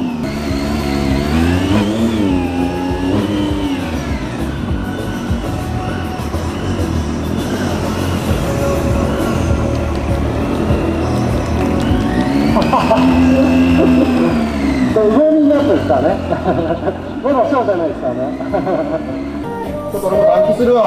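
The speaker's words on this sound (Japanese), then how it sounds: "エンジンだけね、温めさせてください。" A loud motorcycle engine revs up and down repeatedly, rising and falling in pitch as it warms up from cold before a stunt show, with voices talking over it.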